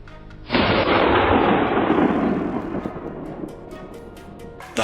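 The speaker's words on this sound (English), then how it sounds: "gunshots immediately rang out" A single loud gunshot cracks out during a wild boar hunt in a swamp. It is close and sudden, and its long rumbling echo fades over several seconds before a sharp sound comes again at the very end.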